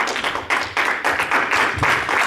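A church congregation applauding, a dense, close burst of many hands clapping in uneven waves that rise and dip without pause.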